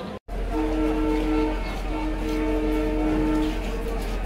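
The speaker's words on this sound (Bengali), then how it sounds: "ঈশ্বরদী রেলওয়ে স্টেশনে প্রবেশ করলো চিলাটিগামী রকেট মেইল" The Rocket Mail train pulls into Ishwardi railway junction station, sounding two long, loud horn blasts over a steady low engine rumble.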